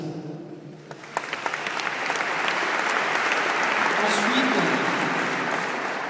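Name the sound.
audience applause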